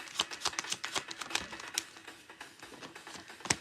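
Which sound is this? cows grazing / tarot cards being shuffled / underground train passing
tarot cards being shuffled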